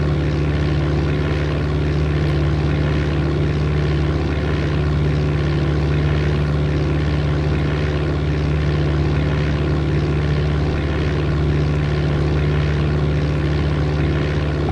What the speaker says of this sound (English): the sound of the engine has a very calming effect to it